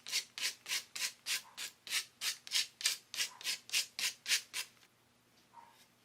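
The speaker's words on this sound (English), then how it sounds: "I took the piece of sanding paper and just made sure that I cut that corner" Sandpaper rubs back and forth on the corner of a decoupaged patchwork piece on a step stool, about fifteen quick, even strokes in steady rhythm, close and clear, then it stops and the room falls quiet.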